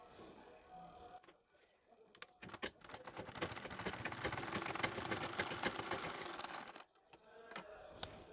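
A sewing machine stitching nauvari saree fabric, starting with a few stop-start bursts and then running in a steady, fast, close mechanical whirr for about four seconds before stopping, followed by faint handling clicks.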